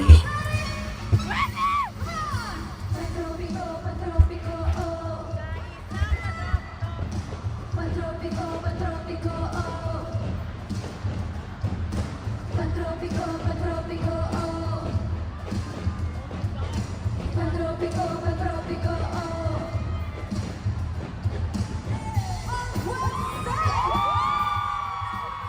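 A large concert crowd screams and cheers throughout, dense and sustained, with repeated swells of high shrieking and a loud roar rising near the end.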